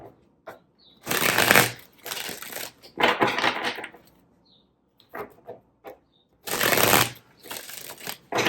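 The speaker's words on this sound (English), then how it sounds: "Let's pull some more cards and see what other messages we get from Spirit." Tarot cards are shuffled during a love reading in loud, close riffling bursts separated by short pauses and a few soft taps.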